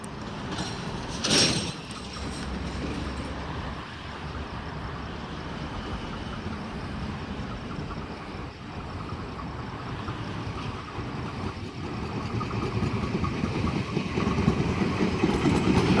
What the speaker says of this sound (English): At Leightonfield, we should have a Liverpool service arriving on platform number 2.